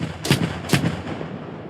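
Two heavy booming blasts about half a second apart, each with a sharp crack followed by a rumbling tail, cannon fire from an M2 Bradley in the video game Gunner, HEAT, PC!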